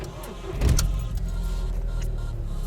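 A VW Polo 9N3 GTI track car's engine cranks and catches after a new fuel pump is fitted, a brief start surge near the beginning settling into a steady close idle.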